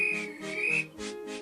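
A guard's shrill whistle blows in several sharp bursts at the docks, loud and close, with brief gaps between the blasts.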